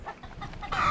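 Chickens belonging to a farmer on the Giara plateau in Sardinia cluck in short, close bursts, a few separate calls building to a louder, sustained cackle at the end.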